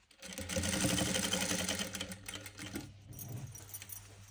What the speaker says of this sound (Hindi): इसने डबल सिलाई लगा दूंगी इस पर थोड़ा पक्का हो जाएगा